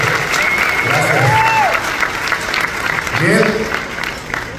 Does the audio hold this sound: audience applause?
yes